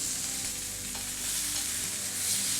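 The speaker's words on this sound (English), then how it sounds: "I recommend stainless steel when searing off your steaks." Steaks sear in a stainless steel pan, a loud, steady, close-up hiss of sizzling fat that holds constant without pause or voices.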